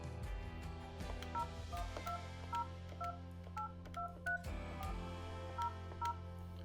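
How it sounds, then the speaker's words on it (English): Dialing a number on a Yealink T3x desk phone keypad, with about a dozen short, even key tones sounding one after another at a steady pace over a faint low hum, close and quiet. "Simply dial the number direct."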